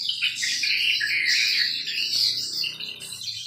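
Swiftlets chirp and twitter continuously inside a 4x12 swiftlet house in East Kalimantan, a dense, loud, high-pitched chorus of overlapping calls with no talking.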